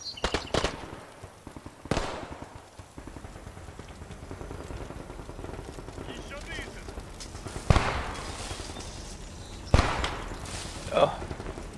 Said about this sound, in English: They're shooting at something.